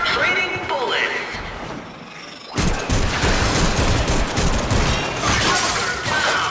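Dense gunfire and crashing impacts in the Warframe mission The Glast Gambit break out abruptly and continue as a loud, continuous clatter of shots and metallic mechanical noise.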